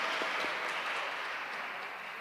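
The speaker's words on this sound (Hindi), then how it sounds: "ज़रा थोड़ी तेज तालियां मारो" A church congregation at an Easter Sunday service claps steadily and densely throughout, a sustained wash of applause at moderate level with no voices standing out.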